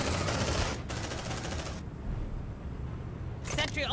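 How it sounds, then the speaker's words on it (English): Sentry gun firing in the video game Aliens: Dark Descent: rapid automatic bursts in two loud, close volleys separated by a brief lull, followed by a short final burst. "Sentry gun."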